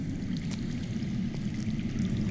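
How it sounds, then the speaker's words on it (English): Underground water in Telltale's Game of Thrones game, a steady broadband rush and gurgle, faint and continuous with a few small splashes, no voices. "I hear water. From underground."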